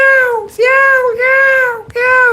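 A peahen in the morning gives loud, nasal, wailing calls, three drawn-out cries with short breaks between them, close and clear with nothing else over them.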